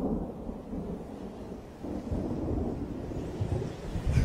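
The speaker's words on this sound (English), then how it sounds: "It's just the rain, Doc." Rain falling with a deep, rolling thunder rumble, a low continuous roar that swells and grows louder toward the end, with no voices over it.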